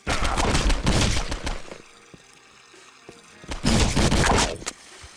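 Bursts of gunfire in Postal 2 as Gary Coleman is shot, loud rapid cracks in two clusters separated by a quieter stretch with a few isolated clicks and thuds.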